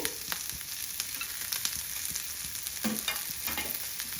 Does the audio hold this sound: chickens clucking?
no